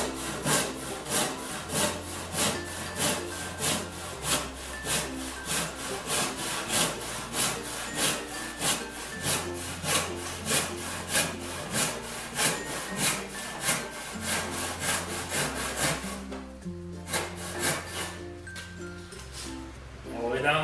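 A hand saw cuts kerfs into a wooden workbench leg for a mortice, with steady rhythmic push-pull strokes, close and loud, before the sawing stops near the end.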